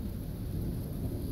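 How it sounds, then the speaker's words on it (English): Thunder rumbles through a storm after a lightning strike, a steady low roar filling the short stretch alongside rain and wind, with no talk. "Ooh, there's a nice lightning strike. Hear that?"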